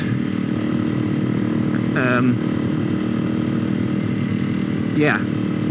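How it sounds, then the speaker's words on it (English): A Honda CRF 250L motorcycle engine drones loudly and steadily with a raspy exhaust tone, rising briefly in pitch twice as the throttle opens, heard from a helmet-mounted microphone. "there is an engine that is connected to an annoyingly loud exhaust pipe"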